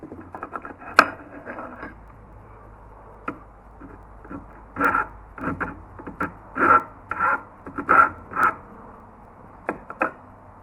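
Hand file rasping across the teeth of a chainsaw ripping chain during sharpening, a series of short scraping strokes in uneven bursts, close and fairly quiet.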